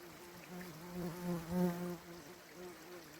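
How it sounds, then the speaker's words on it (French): Flies buzz close around an animal's nose on a mountain trail, a soft droning hum that swells and fades in gentle waves over quiet outdoor ambience. "il y a beaucoup de mouches sur son nez"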